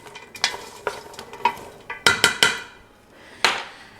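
Vegetables for tomato soup are stirred in a pot, giving a string of sharp scraping knocks and clinks from the utensil against the metal, close and loud. A light sizzle runs beneath the strokes.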